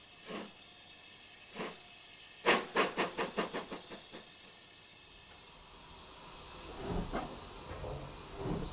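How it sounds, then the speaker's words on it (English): A BR Standard Class 5 steam locomotive restarts a 9-coach train on a curved 1-in-100 gradient with a few slow exhaust beats, then a rapid burst of chuffs as the wheels slip, followed by loud hissing steam. "a standard Class 5 is restarting its 9-coach train on a 1 in 100 gradient"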